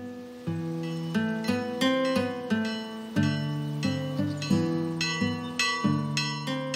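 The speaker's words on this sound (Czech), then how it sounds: "v dřevěné zvonici nad jeskyní vyzve papa Janis věřící ke slavnostnímu zahájení slavnosti" Church bell rung in a wooden belfry above a cave shrine on Karpathos, Greece, at a summer festival: a steady sequence of loud, clear, ringing strikes about every half second, each tone overlapping the last, with no voices.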